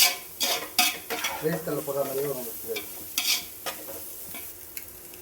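Rice fries over a high flame in a pan, a loud close sizzle under repeated metal stirring and scraping strokes that come in quick bursts.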